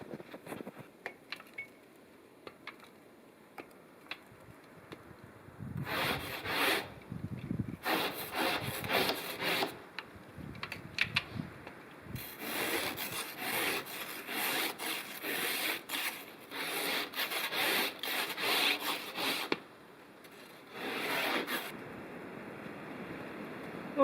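Spatula scraping ice off solar panels at an off-grid log cabin, rough rasping strokes in irregular bursts, some long and some short, fairly close in otherwise quiet surroundings.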